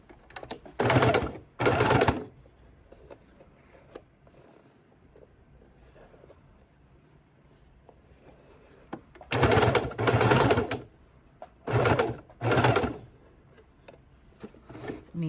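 A home sewing machine stitches binding onto a fabric bowl cover in four bursts, two near the start and two pairs later, each a loud whirring run of a second or so, with quiet handling noise between.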